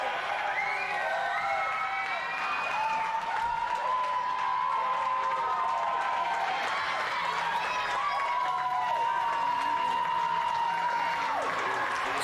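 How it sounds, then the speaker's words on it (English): Hometown crowd at an independent wrestling show, a continuous roar of cheering and shouting with whoops and rising yells throughout, heard at a moderate distance. "Derek Teter, as the hometown crowd here goes wild."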